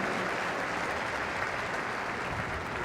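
An audience applauds trophy winners at the 24 Hours of Le Mans ceremony, a dense, steady roar of many hands clapping together without a break.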